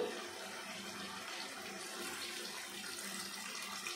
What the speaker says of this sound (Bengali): আমি এখন দিয়ে দেব অল্প পরিমাণে জল।